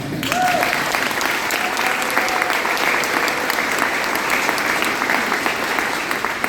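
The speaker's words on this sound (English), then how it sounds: "go ahead, give it an applause." A crowd at an agriculture innovation park grand opening applauds in a sustained, even round of clapping, fairly loud and continuous, with a faint voice briefly under it early on.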